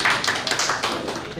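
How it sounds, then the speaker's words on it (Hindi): An audience at a business partners' meeting in Varanasi gives a brief burst of clapping, a quick scatter of sharp claps that fades within about a second. "एक तालियां बजा दीजिए सर के लिए।"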